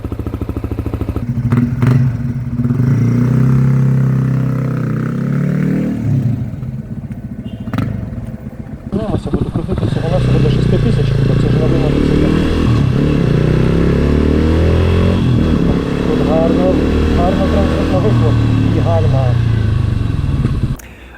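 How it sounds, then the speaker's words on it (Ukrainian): A Lifan KPR 250 single-cylinder 250cc motorcycle idles with a thumping putter, then revs and pulls away into a steady loud ride, with someone talking over the engine. "вихлопу трошки не вистачає басів, але ж це одноциліндровий 250-кубовий мотор"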